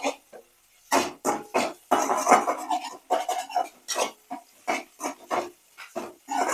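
Egg fried rice made with leftover rice being stirred and fried in a pan, heard as steady, rhythmic scraping and clattering from a spatula against the pan, close and fairly loud throughout.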